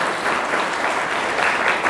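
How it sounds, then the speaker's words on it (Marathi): An audience claps in a steady, dense burst of applause at a Buddhist sermon gathering, loud and sustained for the whole short span. "पुनश्च एकदा त्यांच्यासाठी टाळ्या वाजवा"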